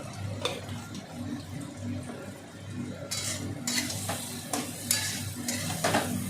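Cumin and coriander powder spices fry in a pan with a low steady sizzle, joined midway by repeated scraping stirs of a spoon against the pan, close and faint.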